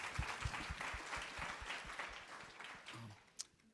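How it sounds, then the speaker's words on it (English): Audience applause at a caregivers' well-being gathering, a dense spread of clapping carried for several seconds with one sharper clap near the end, with voices murmuring faintly underneath. "So let's give a round of applause"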